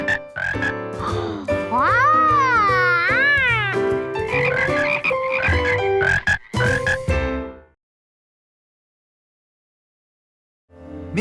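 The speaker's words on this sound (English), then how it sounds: "those were some fine frog calls" Cartoon frog calls from Curious George: loud, sweeping, warbling croaks with rising and falling pitch that run for about seven seconds, then stop into silence before a short burst of sound returns at the very end.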